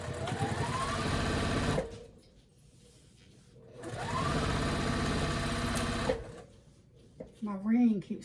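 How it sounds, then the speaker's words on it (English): A sewing machine top stitches a seam on a boxy bag in two bursts of fast whirring stitching separated by a quiet pause, with a person speaking briefly at the end. "I'm going to move my seam allowance towards the main fabric and top stitch"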